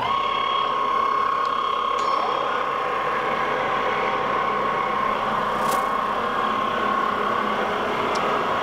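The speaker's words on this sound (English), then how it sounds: "we're going to run the lathe at a fairly slow speed, not too fast" A metal lathe runs at a fairly slow speed with a tool post grinder set up to true a 3-jaw chuck, giving a steady mechanical hum and whine with a few faint clicks.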